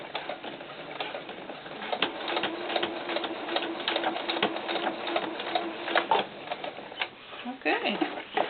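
A sewing machine stitches fabric onto a floral doll skirt in a fast, steady mechanical rattle that holds for most of the stretch, close by and moderately loud, with a brief slowdown near the end.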